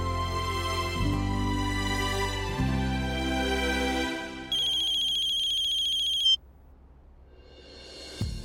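A phone ringtone plays as an outgoing call rings a grandmother in a Hindi TV serial scene, a steady electronic melody that changes pattern partway and then drops to a quieter tone, loud and close with no talking.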